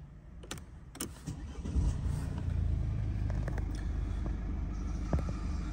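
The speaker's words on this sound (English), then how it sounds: "I'm going to start the car." A 2016–2019 Mercedes car engine starts: a couple of faint clicks, then the starter cranks briefly and the engine catches into a steady, fairly loud idle that holds to the end, recorded close by with no talking.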